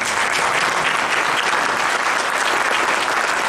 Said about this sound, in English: So let's give these candidates another round of applause.